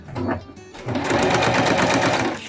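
A sewing machine stitches test zigzags on Spandura fabric, first a brief burst and then a steady, loud, rapid whirring run of the needle up close, with a short pause between the two.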